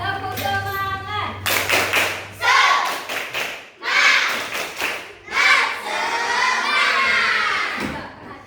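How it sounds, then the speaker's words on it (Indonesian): Schoolchildren in a classroom perform a rhythmic spirit clap, bursts of synchronized clapping alternating with loud group shouts and chanting, close and energetic. "Tepuk semangat."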